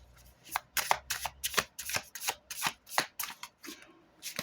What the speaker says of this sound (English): let's pull from this deck